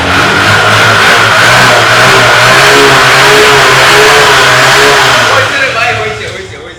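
A used motorcycle engine revs steadily and loud with a smooth mid-pitched drone, holding high for several seconds before easing off at the end.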